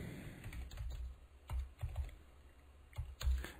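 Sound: computer keyboard typing

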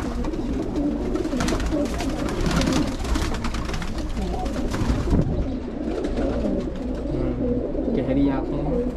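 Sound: pigeons cooing

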